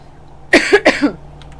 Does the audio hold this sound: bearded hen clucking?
no